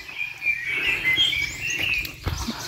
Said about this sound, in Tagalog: Huni ng ibon yung maririnig mo.